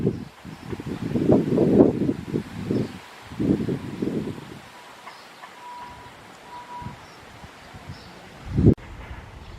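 Meadow grasses such as Yorkshire fog, crested dog's tail, bents and fescues rustle as wind passes through them, with gusty swells that rise and fade and a faint chirp or two at a distance.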